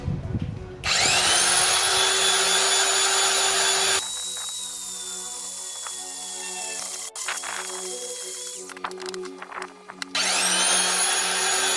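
A bandsaw cuts metal stock for a large custom BBQ grill dolly, giving a loud, steady high-pitched whine with grinding blade contact and brief changes in pitch as the cut progresses, close by with no talk.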